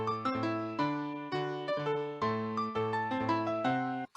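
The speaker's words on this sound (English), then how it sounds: "it produces music for a solo MIDI piano that sounds like this." Solo MIDI piano plays adaptive generated music, a neutral-mood piece of repeated low bass notes under short melodic chords in a steady rhythm, quiet and clean with no voices.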